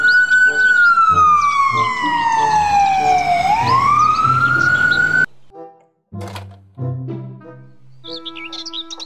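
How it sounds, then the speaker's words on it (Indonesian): Toy ambulance siren, a loud electronic wail sweeping down and back up for about five seconds, then cut off, followed by short toy tones and chirps. "ambulans."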